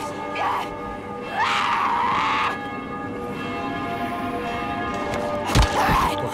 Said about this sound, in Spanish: Están sonando las campanas